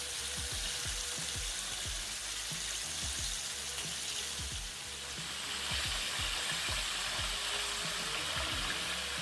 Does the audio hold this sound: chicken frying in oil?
yes